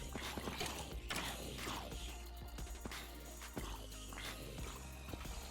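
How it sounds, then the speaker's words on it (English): Minecraft mob grinder running in the 1.10.2 game, a steady busy mechanical clatter of ratcheting and gear-like clicks with periodic sharper knocks, loud and continuous throughout with no talking. "turn on a mob grinder"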